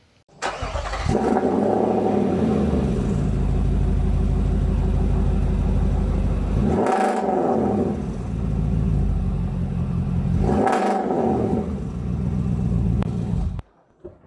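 A stainless steel exhaust on a Nissan Patrol rumbles steadily at idle, then revs up hard twice with sharp, throaty blips before cutting off abruptly near the end.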